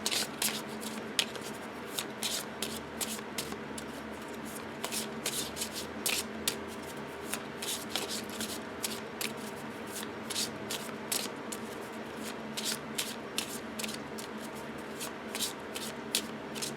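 Lo Scarabeo tarot cards are riffled and shuffled close to the microphone, with repeated crisp card-stock flutters and slaps in an irregular steady rhythm over about seventeen seconds, quiet and without talk.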